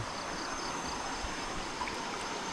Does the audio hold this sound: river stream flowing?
yes